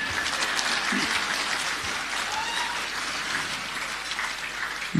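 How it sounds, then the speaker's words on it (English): Audience applause fills a medal-count night at an Australian football awards function at a 16-footers club, a steady dense clapping wash lasting throughout at moderate level, with no voices standing out. "Let's give him a round of applause, ladies and gentlemen."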